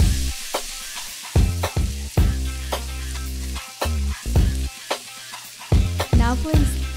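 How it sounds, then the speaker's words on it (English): Meat fries in melted butter in a hot pan while a utensil repeatedly clacks and scrapes against the metal, sharp stirring knocks over a low sizzle. "As it melts, go ahead and stir your meat."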